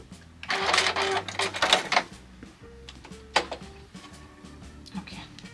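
A home sewing machine stitches fabric while backstitching at a sleeve seam, short bursts of rapid mechanical whirring close by, stopping and starting, with a person talking over and between the runs.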